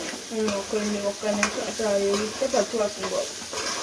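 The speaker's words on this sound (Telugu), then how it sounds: "కొంచెం ఫ్రై అయ్యే వరకు వేసేద్దాం" Coconut, ginger and garlic frying and being stirred in a pan for a masala curry, a steady sizzle with scraping stirs, partly under a voice speaking.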